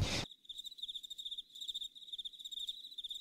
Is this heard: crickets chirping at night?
yes